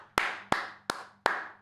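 Four sharp hand claps at a steady, even pace, close and crisp, with brief silence between them.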